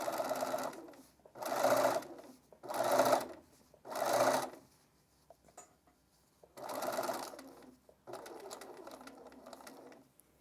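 A sewing machine stitches fabric in short, separate bursts of rapid mechanical whirring, several runs of a second or so with brief pauses between them, heard up close and fairly quiet.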